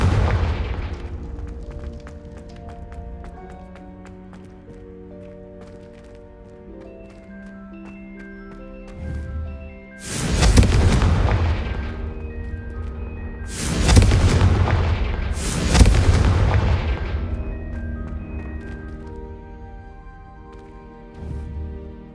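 Explosion spell blasts from the Hogwarts Legacy video game: three loud, booming bursts with long rumbling decays. They stand out over a sustained orchestral music bed, with gaps of a few seconds between them.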